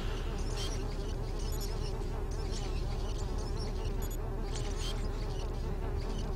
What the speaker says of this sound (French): Petit hommage à Rayman via ce... via le moustique